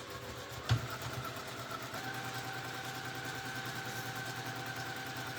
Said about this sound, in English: carry on with your stitching.